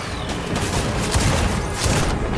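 Turrets fire in Death Stranding on a snowy delivery mission, a dense, fast stream of gunshots with several heavier thumps, loud and continuous with no voices over it.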